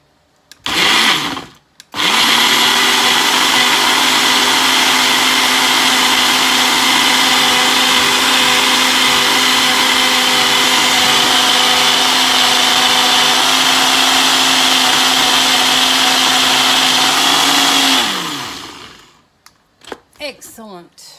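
A kitchen blender runs with food inside for about sixteen seconds as one loud, steady whir, shifting pitch slightly as the contents break down, then winds down; brief clatter from handling the lid and jar comes before and after.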